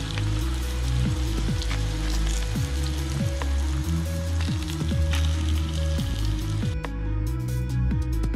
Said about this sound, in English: They are sizzling so much